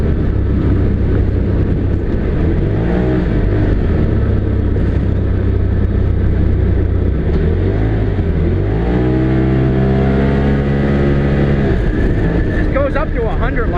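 A 2022 Polaris PRO XP side-by-side with Live Valve accelerating hard, its engine note climbing in pitch through a clear upshift and rising again, loud and close amid heavy wind rush.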